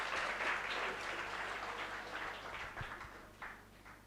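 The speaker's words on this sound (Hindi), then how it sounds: "ऐसी लड़कियों के सम्मान में हम तालियां बजाते हैं भाई," Applause from an audience of students honouring SSC CPO toppers, a dense wash of clapping that starts full and slowly thins and fades over about four seconds, moderately distant.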